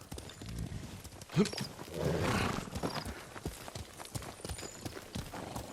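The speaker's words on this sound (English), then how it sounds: "Horse!" In the video game Ghost of Tsushima, a horse's hooves clip-clop in a quick, uneven rhythm, with a short whinny partway through, moderately close and fairly quiet.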